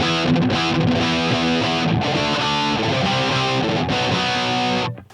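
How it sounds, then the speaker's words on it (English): Heavily distorted electric guitar chords through a Line 6 HX Stomp ring out loud and sustained, a thick saturated tone with a couple of chord changes before cutting off. "Solid foundation for a distorted sound."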